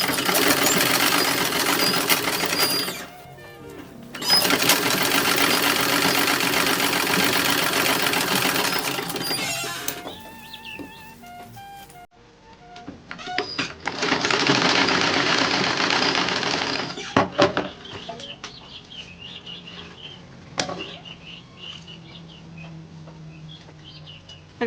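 A sewing machine stitches a seam on a 1930s-1940s style toddler dress in bursts of rapid, even whirring, stopping and restarting several times, with quiet handling clicks and faint chirps in the pauses.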